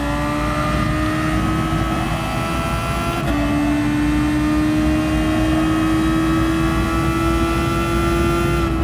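A race car engine droning steadily around Suzuka in a racing sim, its pitch dipping briefly as the throttle lifts, then climbing again under load, loud and continuous.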